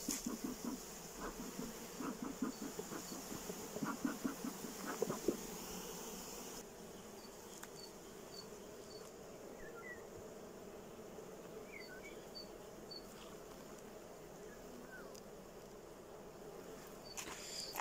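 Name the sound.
honeybees buzzing at the hive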